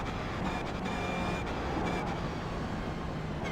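A race car in the iRacing simulator, heard from the cockpit view as it runs out of fuel, gives off a constant droning engine and road noise with faint stuttering tones, steady and unbroken throughout.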